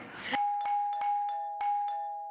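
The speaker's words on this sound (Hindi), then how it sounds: "ऐसा कौन है जो इतनी घंटियां बजा" A doorbell rings repeatedly at a home, its clear electronic chime struck about five times in quick succession, loud and close, with no voices over it.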